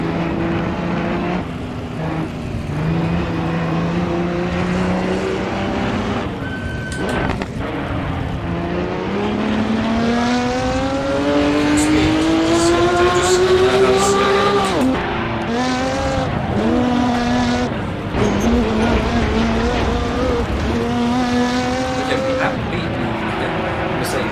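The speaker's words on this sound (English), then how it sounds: "that was a Ferrari 375" A Ferrari 375 race car driven in Assetto Corsa at a hillclimb course: a loud engine note rising and falling through gear changes for the whole stretch, with brief tyre squeal and someone talking over it.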